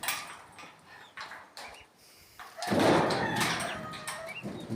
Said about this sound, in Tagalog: Ito, mga bibe.